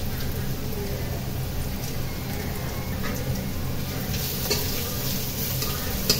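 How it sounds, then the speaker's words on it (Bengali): Onions fry in a pan with a continuous, close sizzle, broken by soft scraping and stirring sounds throughout. "এখন আমি পেঁয়াজটা ভেজে নেব"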